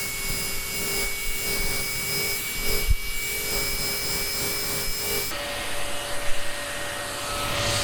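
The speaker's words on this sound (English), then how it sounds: "It's really like a mini portable fan, and I just use this on my face for like 15 seconds" Mini portable skincare fan blowing on a face, a steady close whirring hum with a faint high whine that shifts pitch partway through, with light rubbing and handling noises.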